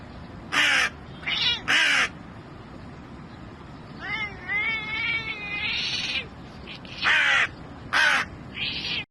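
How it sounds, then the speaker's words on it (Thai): Loud crow caws in short bursts trade off with an orange cat's drawn-out, wavering meows and yowls, alternating back and forth up close. "เรามาดูอีกาเถียงกันกับแมวส้มกันดีกว่า"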